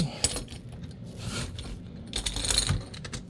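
A ratcheting oil filter wrench turns an engine oil filter, making close metallic clicks and grinding tool sounds in two short bursts.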